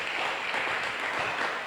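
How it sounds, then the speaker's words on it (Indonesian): Faint, distant applause from a congregation at an overnight prayer service, an even, continuous patter of clapping with no distinct voices. "Yang percaya tepuk tangan yang paling meriah bagi Allah kita"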